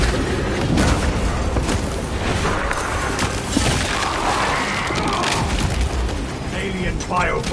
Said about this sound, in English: Launching crack grenade